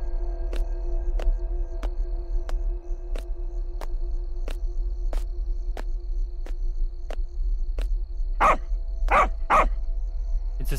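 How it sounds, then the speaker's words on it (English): Puppy barking at people on a street, a run of sharp regular barks, roughly one per half second, followed by three louder, closer yelps near the end over a steady low rumble. "It's this puppy again. It likes barking at people."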